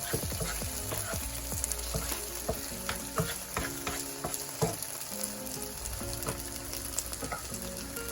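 Okra frying uncovered in a pan over medium-high heat, a dense continuous sizzle and crackle with occasional utensil scrapes and taps, close and fairly loud, with no speech.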